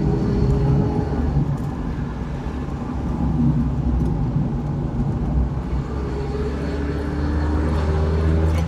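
A Mazda MX-5 NBFL being driven along a winding tree-lined road, with a steady engine drone and road rumble from inside the car that swells and eases slightly through the bends.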